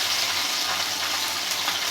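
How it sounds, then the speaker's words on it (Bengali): Fish frying in hot oil in a kadai, a steady, loud, close sizzling hiss that holds evenly with no pauses. "আমার মাছ ভাজাগুলো হয়ে গেছে"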